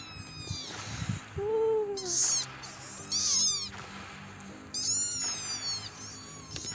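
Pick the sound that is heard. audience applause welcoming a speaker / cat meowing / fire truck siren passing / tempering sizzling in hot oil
cat meowing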